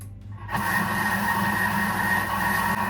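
A kitchen food processor whirs at speed 3 after a brief quieter start, then holds a loud, steady motor drone for the rest of the clip.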